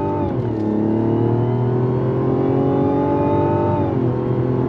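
A 2024 Mazda CX-90 SUV, rear-wheel-drive based with all-wheel drive, accelerates hard on throttle, its engine note rising steadily through the gears with a brief shift dip near the end, loud and continuous with no talk.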